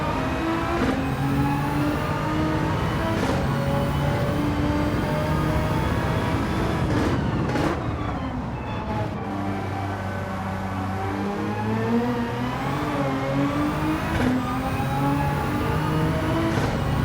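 A Nissan GT-R GR3 race car engine in the Gran Turismo 7 game at Daytona drones continuously and loudly, its pitch climbing and dropping through gear changes with other cars' engines layered underneath, without talking.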